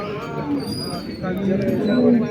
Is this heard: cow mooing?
yes